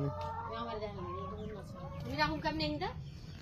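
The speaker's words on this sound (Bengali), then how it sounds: "এই হইতেছে আমার সকল মুরগি" Chickens cluck in a steady, busy chatter close by, with a person talking over the flock throughout.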